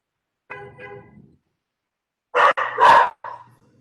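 Pet dogs bark in a house after hearing honking: a short burst of lower barks, a pause, then a louder cluster of sharper barks close by.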